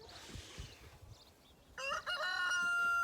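A rooster on a farm kept with meat chickens lets out a single loud, close crow that rings out after a quieter stretch of faint scratching.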